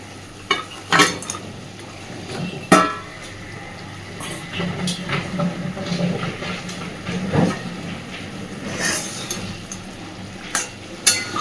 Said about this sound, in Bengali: এই অল্প জলের সাথে মাছগুলোকে ভালোভাবে আগে মিশিয়ে দেবো